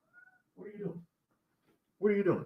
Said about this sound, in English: My bad, that was my cat.